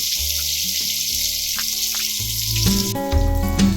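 Bombay duck (bombil) fish shallow-frying in hot oil for a crispy fry, giving a continuous close sizzle with background music playing over it.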